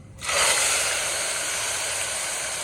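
Tomatoes hitting hot oil already seasoned with asafoetida and curry leaves for a Kathiyawadi green chickpea curry: a sudden loud hiss bursts in after a brief pause, then settles into a steady, close sizzle.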